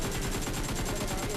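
Gunfire in the mobile shooter PUBG Mobile, a dense continuous burst of rapid automatic shots, loud and close.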